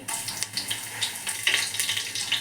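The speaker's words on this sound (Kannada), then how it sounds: "ಇವಾಗ ನಾನು ಬೆಳ್ಳುಳ್ಳಿ ಹಾಕ್ತಾಯಿದ್ದೀನಿ, ಜಜ್ಜಿರುವ ಬೆಳ್ಳುಳ್ಳಿ." Crushed garlic hits hot oil in a pan and sizzles with a steady, close crackle and small pops, heard alone.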